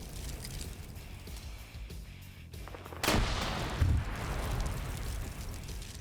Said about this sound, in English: They're shooting the building to throw grenades in here.